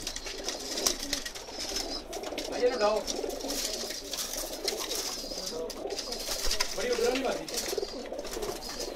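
Soft, throaty coos from Pakistani pigeons repeat amid a busy, noisy background with people talking nearby.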